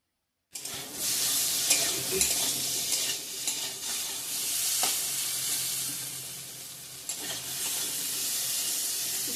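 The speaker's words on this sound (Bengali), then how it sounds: "মিষ্টি কুমড়া ভেজে নেব" Sweet pumpkin frying in a pan, a steady close sizzle with intermittent stirring scrapes throughout, loud and without any talk.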